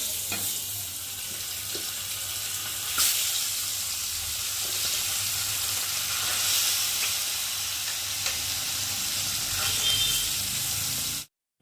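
Pieces of bhola fish frying in oil, a steady close hissing sizzle that holds evenly throughout with a few faint pops, cutting off abruptly at the end.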